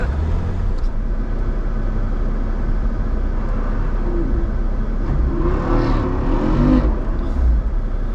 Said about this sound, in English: that's what a 392 sounds like trying to get up a hill